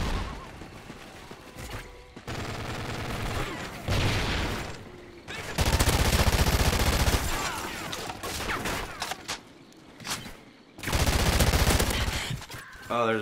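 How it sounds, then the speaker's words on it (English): Rapid, dense bursts of Ripper SMG gunfire in Call of Duty Ghosts on Xbox One, several long loud volleys separated by brief gaps, with game effects and a voice speaking in between. "Definitely need to get used to the fire rate on this SMG."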